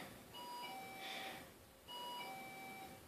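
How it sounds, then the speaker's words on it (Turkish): An electronic doorbell chimes twice, each a short ringing two-tone pattern, heard faint and alone in a quiet room. "Kapı zil çaldı."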